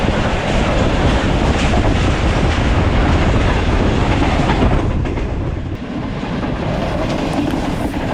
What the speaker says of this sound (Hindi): बैक टू बैक क्रॉसिंग देखी आपने